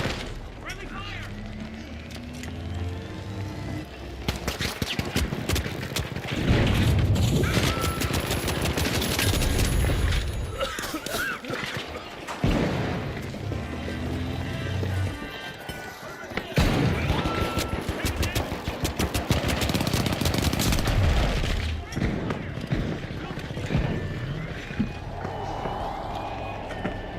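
Gunfire in the shooter game The Finals, with dense, continuous bursts of automatic fire and booming blasts that keep going throughout, mixed with voices shouting over the action.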